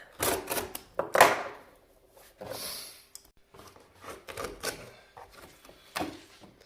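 A staple gun fires repeatedly into a stair runner carpet, giving sharp clacks in uneven bursts with quieter handling noise between them, close by and without speech.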